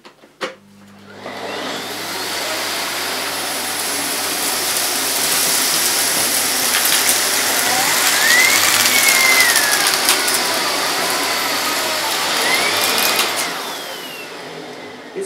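A Miele Complete C1 Powerline Cat & Dog vacuum cleaner with a turbo nozzle switches on and runs with a loud, steady motor whine and airflow roar. Its pitch rises and falls slightly as the nozzle moves over dirt, with no talking.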